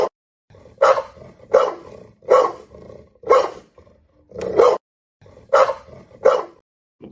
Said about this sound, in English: Tate is playing a dog barking